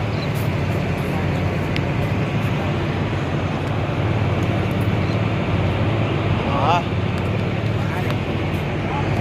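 A passenger ferry launch's engine hums as a constant low, loud drone throughout, blended with wind and water rumble, while voices talk over it.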